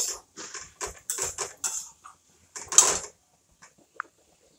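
A spoon scrapes and clatters against a pan while stirring a spring onion vegetable dish mixed with crushed peanuts, in short separate bursts followed by a single small clink.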